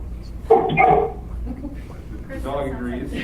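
A dog barks loudly a few times close by in an indoor meeting setting, a short burst followed by fainter yips, with people talking around it.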